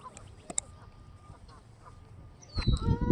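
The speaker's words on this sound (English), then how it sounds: "I'm trying to do a live stream here and these geese have no respect." Geese honking beside a river during an outdoor fishing session, a few brief calls early on, then a loud burst of overlapping honks and clamour near the end.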